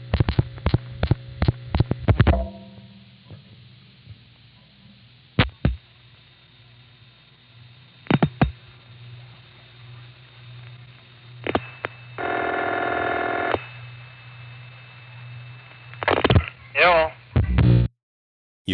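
A 1974 telephone call routed over three N carrier trunk links to Monticello, New York, with clicks, tones, a steady carrier hum and a buzzy signalling burst, intermittent and fairly quiet, with no talking.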